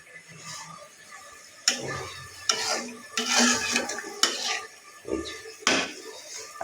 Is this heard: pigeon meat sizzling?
yes